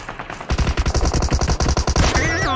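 Rapid automatic gunfire in PUBG Mobile, a dense string of sharp, loud shots fired in quick bursts up close, ending with a brief tonal game effect.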